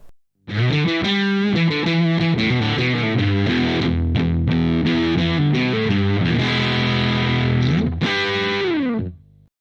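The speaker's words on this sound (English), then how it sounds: "I've also recorded sort of overdriven rock tones and some metal tones as well" An overdriven electric guitar plays chords and riffs through a Harley Benton G112 Vintage cabinet with a Celestion Vintage 30 speaker, loud and sustained, with a thick distorted tone and no voices.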